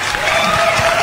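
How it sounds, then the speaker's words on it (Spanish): Brief burst of studio audience applause with a hint of crowd noise, loud and continuous across the short moment. "un fuerte aplauso para las chicas"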